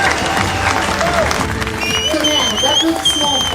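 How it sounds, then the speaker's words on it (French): A crowd applauds and cheers the winners of the 48 Heures Azimut sailing race, dense sustained clapping with scattered cheers, voices talking over the applause. "Tonnerre d'applaudissements pour les vainqueurs de ces 48 heures azimut"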